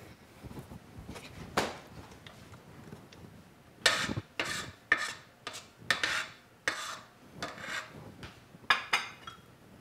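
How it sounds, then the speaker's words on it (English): A spatula scrapes and knocks through thick chocolate cupcake batter in a bowl, giving a series of irregular rasping strokes and clinks, close and fairly quiet. "You can just mix it with your spatula."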